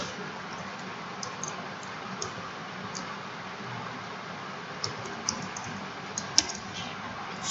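Python code being typed on a computer keyboard: a steady run of soft, faint key clicks with a few sharper taps near the end, no voices.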